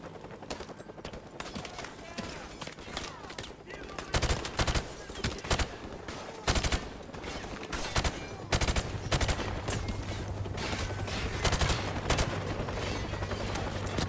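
Gunfire from the video game Modern Warfare Remastered: dense bursts of automatic shots and sharp single cracks fill the stretch, growing louder and more continuous in the second half, with a low steady hum underneath.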